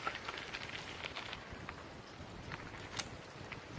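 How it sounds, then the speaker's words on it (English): Rain falling outdoors on a wet day, a soft steady patter with scattered crackly drop hits and one sharper tick, faint and continuous throughout. "It's been raining all day."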